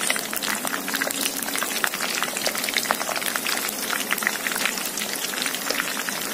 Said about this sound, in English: deep fry the prawns first, and then gonna strain them